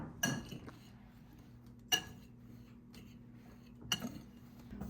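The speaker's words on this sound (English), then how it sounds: "we're going to mix up all of our dry ingredients" A spoon mixes dry ingredients for apple crisp filling in a bowl, giving three faint, clinking taps a couple of seconds apart over a quiet background; a child is doing the mixing.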